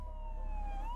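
A fire engine siren wails steadily, faint and distant, with its tone slowly shifting over a low background rumble.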